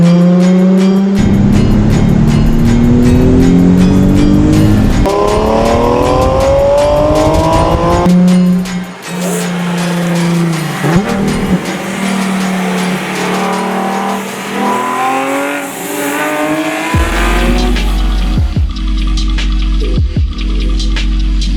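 Two Nissan 370Z sports cars, a base model and a Nismo, race hard with loud rising engine revs, repeated upshifts and tire squeal, close and continuous with no talk.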